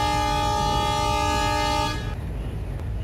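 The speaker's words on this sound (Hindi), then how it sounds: "ग्रीन सिग्नल दिखते ही उन्होंने हॉर्न बजा दिया" Locomotive horn on an Indian Railways train in the Trainz Simulator video game, sounding one loud, steady blast for about two seconds before cutting off to quieter background rumble.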